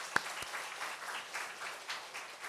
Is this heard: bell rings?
no